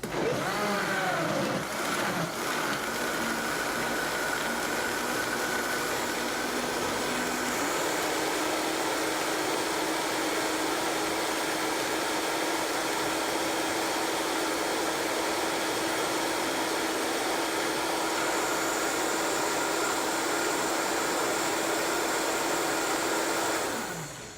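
A loud, continuous whirring roar of a blender making a green smoothie at high speed, steady throughout with slight shifts in pitch as the contents churn.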